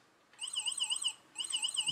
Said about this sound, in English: that food beep is not very loud at all, but if this piezo speaker is actually in a block of wood like this